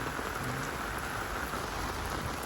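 Steady heavy rain pouring down on a construction site with a steel structure, a dense, continuous hiss with no voices.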